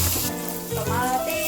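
Garlic, onion and tomato sautéing in a pan for pork sinigang, a short burst of loud close sizzling with brief stirring sounds and no speech.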